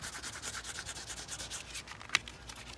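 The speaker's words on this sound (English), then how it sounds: "the smooth side of this, to help rub it down" Smooth backing paper is rubbed firmly over a flag decal on an Adirondack chair, giving close, repeated rhythmic scuffing strokes with one sharp tap near the end, with no talking.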